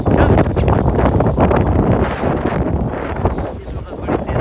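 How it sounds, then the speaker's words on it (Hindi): Strong wind gusts roar steadily across a high rocky spot, buffeting the microphone in a continuous loud rush, with a voice faintly mixed in. "इस वक्त बड़ी तेज हवा चल रही है"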